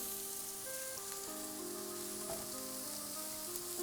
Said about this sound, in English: Just going to add a little bit more oil, and it's time to get the mushrooms in.